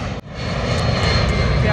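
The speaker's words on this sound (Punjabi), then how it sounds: "ਜਹਾਜ਼ ਆ ਜੀ" A light aircraft engine, likely a helicopter waiting for a ride, running loudly and steadily with a brief dip at the start, then a constant drone with faint voices underneath.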